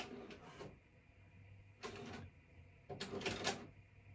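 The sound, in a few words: Silhouette cutting machine cutting printed sheets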